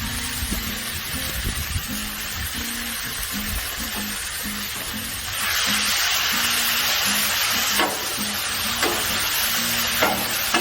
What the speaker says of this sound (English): We're going to get our beef on there